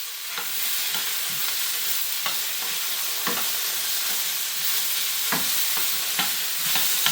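Fresh ingredients for Jamaican steamed fish sizzle and fry in a little oil while being stirred, a steady loud hiss broken by scraping clicks of the utensil, with no voices.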